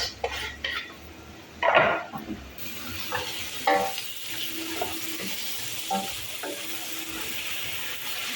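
Tomatoes tipped into peppers already frying in a pan, with stirring and a clatter of utensils on cookware over a steady sizzle. A louder burst of sizzling comes early, then scraping and tapping continues close by.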